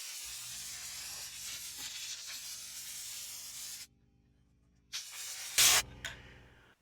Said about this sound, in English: I'm going to use some air to blow off the rest of the solvent